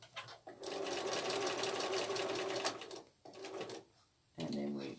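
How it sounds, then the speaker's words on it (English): A sewing machine top-stitching just inside a folded fabric edge, running in a fast steady chatter for a few seconds, pausing, then resuming in short bursts, with a voice talking faintly alongside. "I'm sewing just inside that folded edge as a top stitch"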